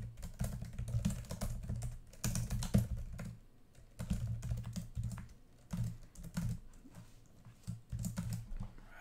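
Computer keyboard typed in quick bursts of close, crisp key clicks separated by short pauses, no voices.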